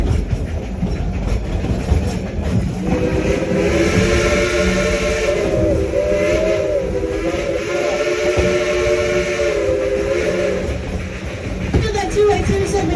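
A coal-fired Type 282 steam locomotive chugs steadily while a long, loud whistle sounds for several seconds, then fades back to the rumbling, clattering engine.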